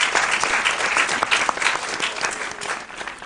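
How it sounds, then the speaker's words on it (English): A crowd at a school quiz competition claps steadily and fairly loudly throughout, a dense wash of hand claps with no voices standing out. "Let's give our contestants a round of applause."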